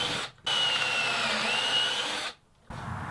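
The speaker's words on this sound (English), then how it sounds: "Now I'll drill a few pocket holes in the top edge of this base." A drill bores pocket holes into the top edge of a wooden end table base: two sustained whirring runs, close and loud, separated by brief silent pauses.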